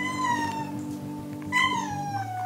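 A cat meows at an outdoor hotel breakfast abroad, two drawn-out, close, clear cries, the second rising and then sliding down in pitch, against a low background hum.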